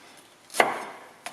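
A knife cuts a shallot into small pieces on a board, with one sharp chop followed by a fainter second chop a little later in a quiet kitchen.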